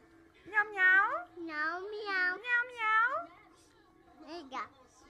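A voice imitates a cat, giving several drawn-out meows in a row, then a shorter, quicker one after a pause.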